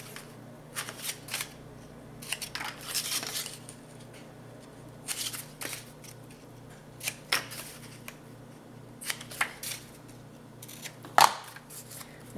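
Scissors snipping the corners of cardboard for a scrapbooking mini album, a scattered series of short, crisp cuts and rustles at close range over a quiet background hum.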